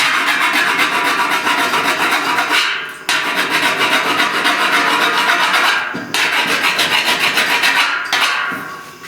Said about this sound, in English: I'm just trying to see if I can tweak it a little bit by filing.